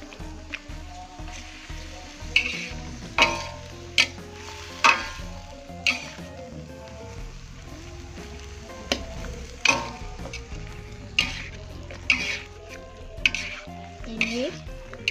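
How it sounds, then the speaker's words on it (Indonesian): A spoon stirs a bottle gourd stir-fry in a sizzling pan, scraping and knocking against the metal at a steady, irregular rhythm over a constant frying hiss, close and fairly loud with no talk. "Ini kita aduk-aduk."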